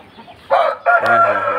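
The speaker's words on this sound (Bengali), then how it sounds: "বিগ সাইজ মোরগ এটা 28 সাইজের মোরগ বিগ সাইজ মোরগ" A big ten-month-old Aseel rooster crows loudly and close, a short first burst followed after a brief break by a longer drawn-out crow, with no other sound around it.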